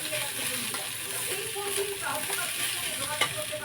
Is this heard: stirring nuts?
yes